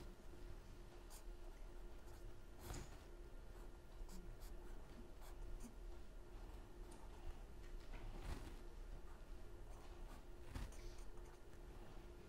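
Pen or chalk scratches across paper in a classroom lesson, faint intermittent strokes with a few sharper taps over a steady background hum.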